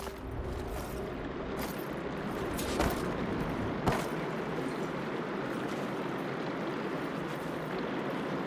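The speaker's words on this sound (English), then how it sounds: "Aloy, I can hear water in the room again." Water runs steadily inside a room in Horizon Forbidden West, a continuous close rushing hiss that holds even throughout, with a couple of faint knocks partway through.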